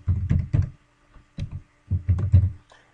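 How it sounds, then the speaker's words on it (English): Keystrokes on a computer keyboard in short bursts of clacking taps separated by brief pauses, close and clear with no talking. "And so I'm going to type in yes and no."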